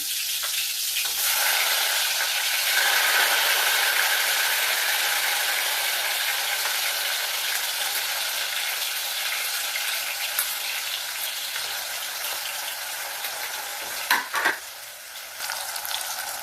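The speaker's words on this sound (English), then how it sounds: "So we are going in with everything, every seasoning, and sauteing them." Seasonings and tomato sautéing in a hot pot outdoors for a Jamaican susumba and ackee dish, a steady bright sizzle running throughout with a few scraping stirs near the end.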